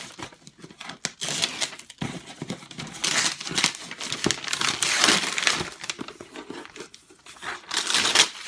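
Paper wrapping around custom-made book slipcases crinkles and tears in irregular bursts during an unboxing, close and fairly quiet, with rustling handling throughout.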